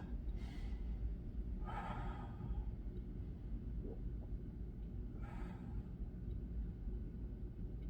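Slow, deep breaths during an advanced core-strength and flexibility golf workout with twisting stretches, three soft exhale bursts spaced a few seconds apart over a low steady hum, close and faint, no talking.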